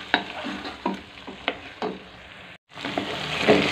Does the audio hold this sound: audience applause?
no